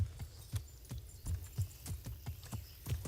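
Horse hooves clip-clop in a steady, even rhythm in the medieval game Kingdom Come: Deliverance, quiet and close, with no voices.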